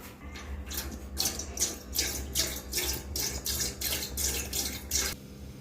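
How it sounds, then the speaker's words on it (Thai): Coconut milk poured into a cooking pot for a Thai curry, a steady close liquid stream with rhythmic glugging pulses running for about five seconds, with no talk. "ตอนแรกตั้งหม้อแล้วใส่กะทิลงไปเลยครับ"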